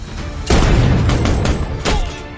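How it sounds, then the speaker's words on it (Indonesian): Sniper rifle shot striking a soldier's protective helmet in a war film, a loud booming impact followed by a rumbling, crackling gunfire-like surge and a second burst, dense and close. "Beruntungnya peluru sniper belum mampu menembus helm pelindung."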